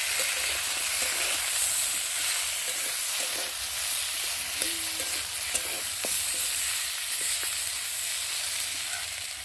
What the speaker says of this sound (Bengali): আর দিয়ে দেবো হলুদ গুঁড়ো আর লঙ্কার গুঁড়ো অল্প করে দিয়ে মশলাটা ভালোভাবে কষিয়ে নেব